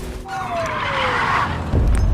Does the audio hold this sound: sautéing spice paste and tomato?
no